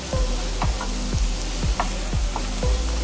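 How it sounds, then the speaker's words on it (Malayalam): Onions with curry leaves and salt sautéing in a pan, a loud continuous sizzle broken by regular spatula scrapes and taps roughly every half second, close and alone. "ഇനി നമുക്ക് നന്നായിട്ടൊന്ന് സോട്ട് ചെയ്യാം"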